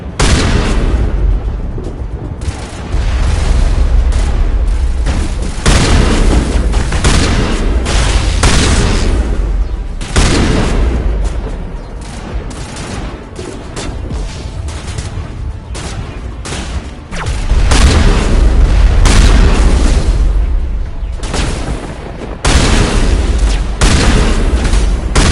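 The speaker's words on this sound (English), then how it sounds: "There must be a way to shut that gun down." Big gun firing in the Mass Effect 1 video game, loud dense booms and bursts of heavy gunfire with explosions rolling almost continuously, close and powerful, with no talk.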